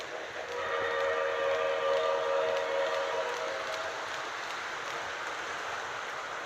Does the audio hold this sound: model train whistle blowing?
yes